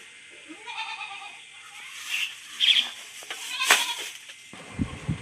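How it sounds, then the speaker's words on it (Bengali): Goats bleating on a rural homestead, several cries rising over soft outdoor background, moderately near, with a faint rustle and knock near the end. "ছাগলগুলো খুব ডাকছে, খিদে পেয়েছে ওদের"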